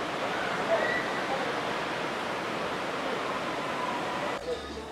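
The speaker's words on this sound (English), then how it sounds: "The rain has come pouring down." Heavy rain pouring down outdoors in Colombia, a dense continuous hiss of steady loudness that carries on throughout with faint voices underneath.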